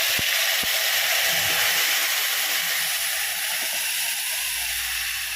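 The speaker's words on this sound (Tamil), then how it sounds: "இதை நம்ம அப்படியே தாளிப்பு கொடுத்துக்கலாம்." Curry leaves, cumin and mustard seeds sizzle in hot oil tempering a tomato chutney, a loud, steady, close hiss that holds unbroken throughout.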